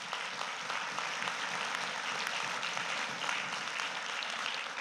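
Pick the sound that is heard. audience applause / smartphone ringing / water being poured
audience applause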